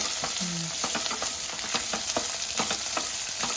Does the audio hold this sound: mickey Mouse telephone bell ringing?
no